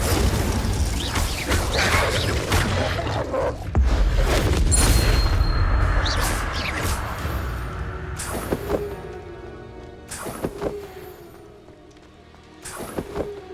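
A fiery incendiary spell blast from Hogwarts Legacy on PS5, a loud rumbling boom that fills the first seconds and swells again near four seconds, followed by sharper crackling impacts and bursts that fade out unevenly.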